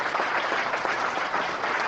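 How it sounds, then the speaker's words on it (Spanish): A church congregation claps during a Spanish-language worship service in Venezuela, a steady dense patter of many hands filling the room for about two seconds with no talking over it. "Un aplauso para nuestro Señor Jesucristo."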